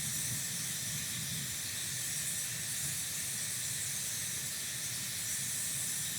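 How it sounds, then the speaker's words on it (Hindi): A steady, even hiss of a hair dryer blowing continuously, recorded through a Saramonic Air wireless microphone with noise cancellation on, fairly faint and unchanging throughout, with no voices. "हेयर ड्रायर की आवाज़ जो है वो कितनी ज़्यादा"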